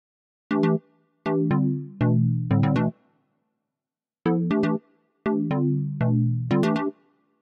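A short musical leitmotif meant to evoke a dragon, played as two matching phrases of loud, sharply attacked low chords and notes with a brief silence between them, no voices present.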